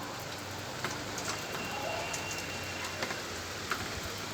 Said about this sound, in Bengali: জোরে জোরে বৃষ্টি পড়ছে।